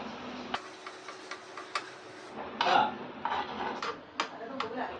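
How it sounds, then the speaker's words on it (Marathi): Batter spread with a spoon in a buttered hot pan for a sprouts, spinach and cheese sandwich: light metallic scraping and scattered ticks of a spoon against the pan, fairly close, with no talk. "पॅन गरम करायला ठेवलं आहे थोडंसं बटर घालायचं आणि एक चमचा बॅटर घालायचं"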